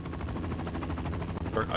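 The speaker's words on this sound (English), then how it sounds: "Yeah, I guess there's a helicopter around here somewhere." Helicopter rotors drone steadily in the 007: Quantum of Solace video game, a low continuous thrumming that runs throughout at moderate loudness, with a brief brighter burst near the end.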